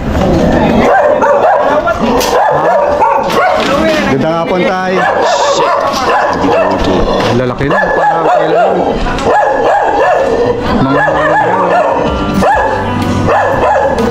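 Several dogs bark and yip repeatedly close by, some whimpering, while people talk loudly over the commotion.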